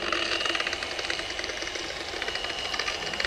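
An Interskol UMP 180 polisher runs at a low 400 rpm setting, giving a steady, close whirring motor hum with a faint rattling texture and no talking.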